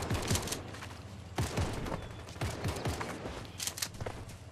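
Rapid bursts of gunfire in the video game Fortnite during a battle royale squad match, several sharp clustered shots and volleys that stand out loudly against the game's background.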